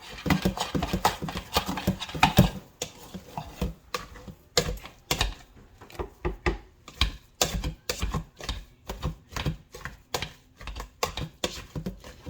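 Cooked potatoes with milk are mashed by hand in a rhythmic series of soft, wet thumps and squelches, close up, steady and repeated with brief pauses.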